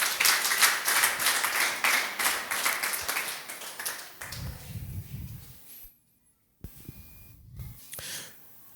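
A church congregation claps in praise to God, a dense burst of many hands that fades after about four seconds, followed by quieter low rumbles and brief pauses.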